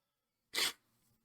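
A single short, sharp sneeze bursts out abruptly from near silence, close to the microphone, and leaves only a faint trailing breath.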